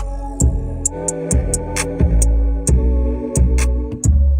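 Music with a steady beat plays through newly installed car door speakers and tweeters in a Subaru WRX, bright crisp high hits over a thumping low end, sounding nearby.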